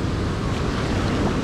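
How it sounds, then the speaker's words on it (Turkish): Ocean waves wash onto a beach as a steady, loud broadband roar, with some wind buffeting the microphone and no voices. "Hadi bir okyanus ayaklarımızdayız."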